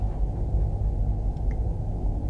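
Damaged, sinking ship picked up on a U-boat hydrophone in the Silent Hunter 3 naval game: a steady, dense low rumble with faint creaks, continuous and unbroken, no voices.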